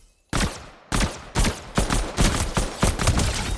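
Loud, close gunfire from a weapon in a looting-focused video game: a string of sharp single shots in a steady, slightly irregular rhythm, each with a short decaying tail, no voices.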